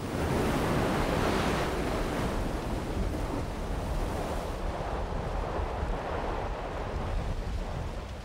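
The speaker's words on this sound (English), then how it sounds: "The waves rush with great force into the basalt tunnel, creating a powerful burst of water on their way out." Ocean waves surge into a basalt tunnel on the Tahiti coast and burst out of the blowhole, a loud continuous roar of rushing, crashing water mixed with wind buffeting the microphone.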